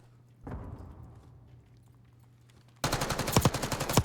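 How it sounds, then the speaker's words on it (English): Submachine gun fire in the Call of Duty video game during a long-range fight: a dense run of rapid, loud shots that starts abruptly near the end, after a single louder impact and a quieter, steady stretch. "Just a long-range fight with an SMG"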